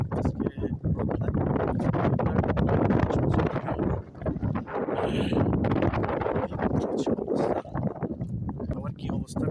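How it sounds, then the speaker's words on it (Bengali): Cool wind blowing by a lake on an overcast day, buffeting the microphone in a loud, continuous rumbling roar with gusty surges throughout. "শীতল হাওয়া, আজকে রোদ নাই।"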